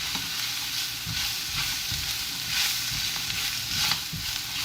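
Five-spice powder and other spices stir-fried in a wok give a steady, close sizzle, with a spatula scraping and clinking at an irregular rhythm the whole time, and no voices.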